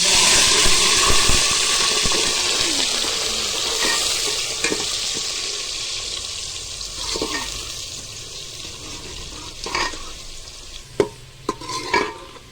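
Onions browning in a pan with ajwain, a steady loud sizzle that gradually fades, followed by scraping stirs and sharp clinks of a utensil against the pan near the end.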